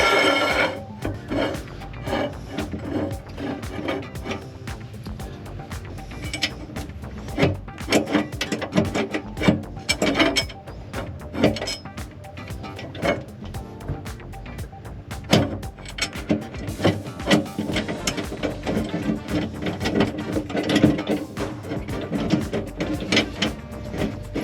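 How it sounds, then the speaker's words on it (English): Metal rod being reattached on an RV's landing gear, with a busy run of clanks, scrapes and mechanical rattles close by, steady for about 25 seconds. "we'll need to reconnect this rod"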